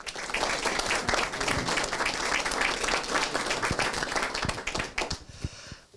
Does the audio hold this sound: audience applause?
yes